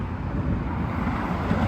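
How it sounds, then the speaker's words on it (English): Loud roaring road traffic heard while walking across a city street in California, a continuous low rumbling wash of passing vehicles with some wind noise. "Roaring traffic."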